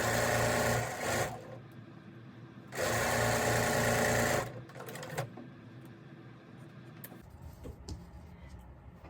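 A sewing machine stitches quilt block seams in two loud bursts of fast, even whirring, with quieter handling of fabric and small clicks in between.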